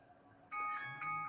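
A phone rings quietly with a bright electronic tone that starts abruptly and repeats in two short, chiming bursts.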